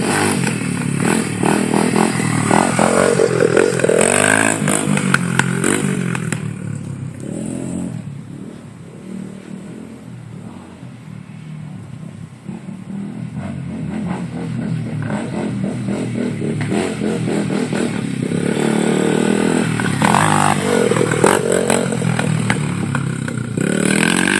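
Honda CRF 100 dirt bike riding on a dirt track, engine buzzing and revving loudly and continuously, rising and falling with throttle, with some clattering and scraping, no voices.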